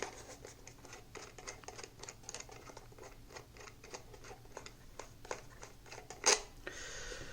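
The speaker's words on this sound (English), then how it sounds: "let's unscrew this thing" Small ratcheting clicks from a GoPro Hero8 mount screw being unscrewed, a steady run of faint, close ticks with one sharper click near the end.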